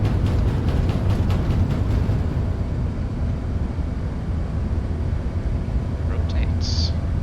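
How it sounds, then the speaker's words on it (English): Airbus A380 in Lufthansa livery accelerating down the runway on its takeoff roll in Microsoft Flight Simulator, a steady, loud engine roar filling the whole stretch without letup. "Very quick takeoff roll."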